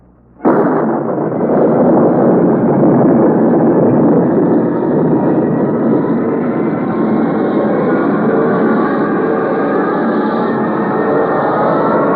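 A rocket blast-off effect from a 1950s radio drama erupts suddenly into a loud, sustained roaring rumble with heavy echo, holding steady for many seconds and fading only slightly.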